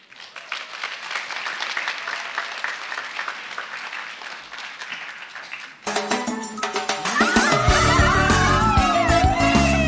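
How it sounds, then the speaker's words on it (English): An audience applauds a catwalk team at a community meeting, with steady clapping that carries on and swells as loud music with singing enters partway through. "a huge round of applause for the Vietnamese American community of Las Vegas catwalk team"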